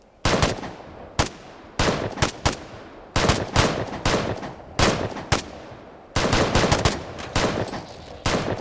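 A decoy consumable in the video game Vigor fires off loud, close bursts of gunfire, rapid rattling volleys separated by short pauses, repeating over and over with no talking.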